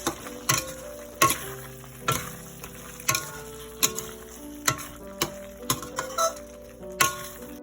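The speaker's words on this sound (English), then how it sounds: "I'm adding in the tofu now. Okay, we're going to mix." Tofu is stirred and fried in Malaysian sambal in a pan, with regular sharp knocks and scrapes of a spatula against the pan over a low sizzle, close and repeated about once a second.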